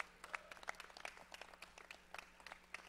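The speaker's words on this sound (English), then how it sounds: "Huge round of applause for that." Faint, distant applause from an audience at a VLA championship hockey match between Team LVC and the Icemen, uneven scattered claps lasting a few seconds with no talk over them.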